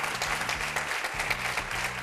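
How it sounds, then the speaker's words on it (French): An audience at an African web festival award ceremony claps in a brief, continuous burst of applause, with a low droning hum running underneath. "Public, on peut encore applaudir Ami parce qu'elle le mérite."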